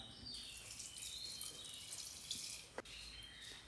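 Water is poured into a cooking pot of mixed vegetable masala curry seasoned with coriander powder and salt. It makes a faint, steady watery hiss with a single brief splash near the end.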